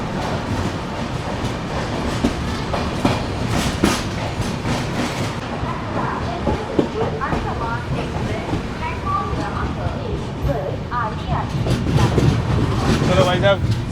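Karnataka Sampark Kranti passenger train running through Chandrapur railway station, with a steady dense rumble of wheels and carriages and some clickety-clack beats throughout, loud and close, with no pause.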